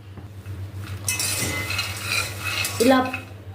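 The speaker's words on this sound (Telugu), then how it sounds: "పల్లీలు పొట్టొచ్చే వరకు వేపుకోవాలి." Peanuts dry-roasting in a pan over a medium flame, stirred with a metal spoon: close scraping and clinking of utensil on the pan over a faint low hum, with a sharper clatter near the end.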